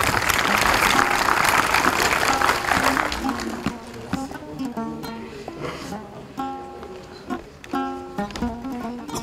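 Audience applause at an evening ceremony in a cinema, a dense wash of clapping that is loud at first and then thins out into scattered claps as a voice starts speaking and music comes in over it.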